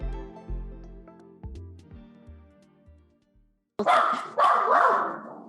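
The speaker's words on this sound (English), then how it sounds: "Sorry, our dogs are barking." Dogs barking indoors: two loud bursts of barking break in abruptly after soft music fades out.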